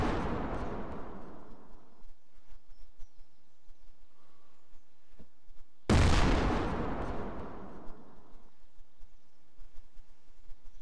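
Two heavy tank cannon shots boom in a Garry's Mod ACF armor test, the first at the very start and the second about six seconds later, each loud and close with a long rumbling decay.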